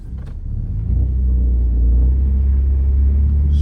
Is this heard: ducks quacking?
no